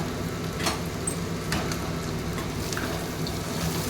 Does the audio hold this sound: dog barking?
no